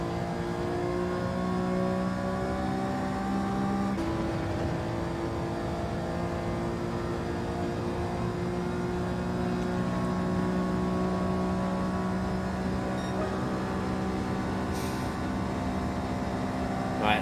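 Alfa race car engine in Gran Turismo 7, a loud sustained droning whine that rises and holds steadily throughout with little change.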